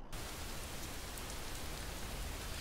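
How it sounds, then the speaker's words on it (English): Steady rain falling in Skyrim, an even, dense hiss that runs the whole time without break, moderately quiet, with no voices over it. "It's raining, but I can't stay here until the rain stops."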